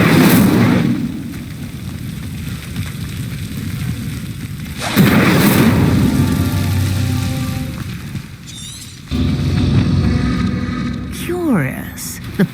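The Incendio fire spell lights a stone pyre in Hogwarts Legacy, giving three loud, booming whooshes of flame spaced several seconds apart, each followed by a fading rumble, with a voice speaking in between.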